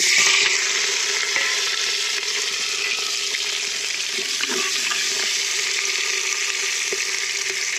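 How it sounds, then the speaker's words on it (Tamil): Steady, loud frying hiss of shallots and green chillies dropped into oil after mustard seeds splutter, one continuous close sizzle with faint crackles and scrapes inside it, no voices. "கடுகு பொரிந்தவுடன் சின்ன வெங்காயம், பச்சை மிளகாய்,"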